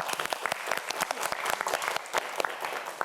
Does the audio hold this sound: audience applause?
yes